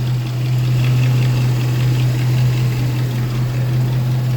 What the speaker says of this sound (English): They had headers put on, and all they do is sound like they're leaking the whole time.